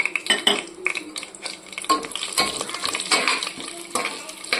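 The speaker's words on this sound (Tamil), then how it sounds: "கொஞ்சம் ஃப்ரை ஆனோடனே இப்போ நம்ம சீரகமும் கேஷ்யூஸையும் ஆட் பண்ணிடலாம்." Cumin and cashews frying in ghee in a pan, with dense crackling sizzle and repeated scraping and clinking of a spoon stirring against the metal throughout.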